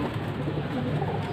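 Feather-footed parel pigeons coo in a steady, low murmur that fills the short stretch, fairly close and continuous with no speech.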